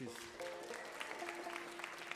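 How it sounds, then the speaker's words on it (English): Audience applause for a co-host at a live folk music show, steady clapping from a crowd with a few sharper individual claps and some faint overlapping voices. "Let's give our co-host a big round of applause"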